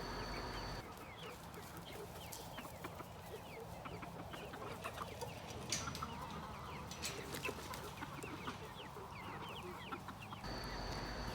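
A flock of chickens with a small rooster cluck continuously outdoors, with busy overlapping soft clucks and chatter forming a dense, steady bed at moderate distance, no talking.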